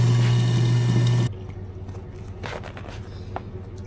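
Hot water runs hard from a tap in a loud, rushing stream for about a second, then cuts off abruptly. A quieter background hum with small clinks follows.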